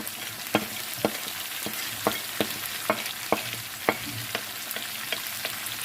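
Onion and spices frying in oil for potato bhujia give a continuous sizzle, with regular sharp scrapes and taps of a spoon stirring the pan every half second or so.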